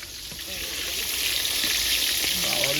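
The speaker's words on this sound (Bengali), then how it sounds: "একদম দুবোতলে বেগুন ভাজা হচ্ছে।" Brinjal slices frying in oil for a family feast at home give a steady, close sizzling hiss that holds evenly from start to finish, with faint voices in the background.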